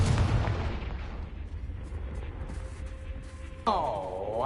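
A Confringo fire spell from the game Hogwarts Legacy bursts with a loud booming blast, its rumble fading over a few seconds before a second sharp whooshing burst near the end.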